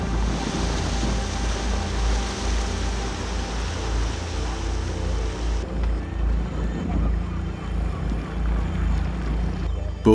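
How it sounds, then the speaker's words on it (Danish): A small fishing boat drifts through swirling river current near a bridge, with a steady low rumble of water and hull noise, wind buffeting the microphone and a constant wash of flowing water throughout. "Båden glider roligt gennem strømvirvlerne og er så uden for broen"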